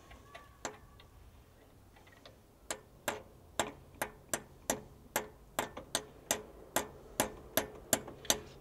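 A bearing is tapped gently into a Ferrari crankshaft during clutch removal and refitting, a quiet series of about twenty sharp metallic taps. The taps are sparse at first, then come in a steady, even rhythm close by.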